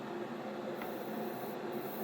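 Steady hiss of spray paint misting onto a 1988 Kyosho Ford RS-200 model car body during restoration, a continuous close airy spray with no pauses and no talking.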